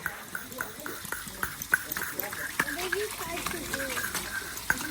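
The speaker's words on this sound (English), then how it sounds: "It's just giving the gravel a stir." Aquarium gravel being stirred underwater, a busy run of small clicks and watery swishes with bubbling through the whole stretch, near and steady, while voices talk over it.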